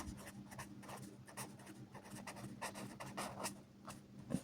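Pen writing out a math answer on paper during a Class 9 maths lesson, soft, close scratchy strokes in quick irregular bursts over a low steady hum, with no talk.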